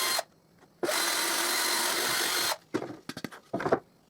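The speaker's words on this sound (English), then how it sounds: "I drill 6 mm holes." A drill bores 6 mm holes while building a vertical drill press table: one sustained whirring run of nearly two seconds, then several short bursts and a final brief spin, close and moderately loud.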